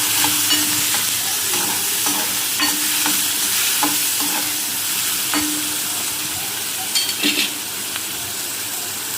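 Finely chopped onions fry in a hot pan with a steady sizzle, broken now and then by the scrape of a spoon stirring them; no voices.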